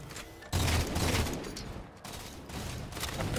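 Halo 4 gunfire in a 2v2 Battle Royal tournament match, a dense burst of shots and blasts running nearly the whole time, loud and close with little pause.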